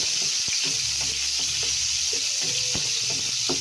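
Garlic frying in oil in a pan for pork adobo and adobong sitaw, a steady close sizzle with occasional stirring clinks and scrapes, no talking.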